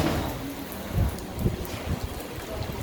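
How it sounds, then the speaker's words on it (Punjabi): Steady rain pours onto a street where water is collecting, a dense, continuous hiss with scattered louder drops, close and fairly loud. "ਹੁਣ ਮੀਂਹ ਪੈ ਰਿਹਾ ਇਹਦੇ ਵਿੱਚ ਤੁਹਾਨੂੰ ਪਤਾ ਲੱਗ ਜਾਣਾ ਗਲੀ ਦੇ ਵਿੱਚ ਪਾਣੀ"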